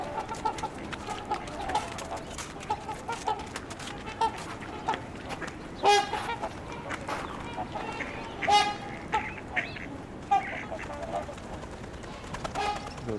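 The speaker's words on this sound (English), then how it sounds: "There's a couple of mallards." Mallard ducks call from a busy waterside gathering of trumpeter swans, their repeated quacks and honks rising now and then above a constant bed of flock chatter, with a few louder calls close by.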